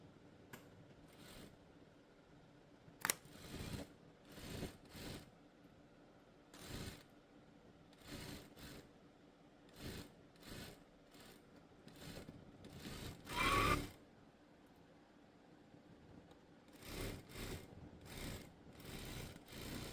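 A sewing machine double-stitching a school uniform top: short bursts of rapid mechanical whirring, start and stop, with pauses and a sharp click between runs, close and fairly quiet.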